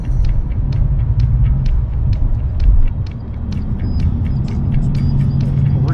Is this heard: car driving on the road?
yes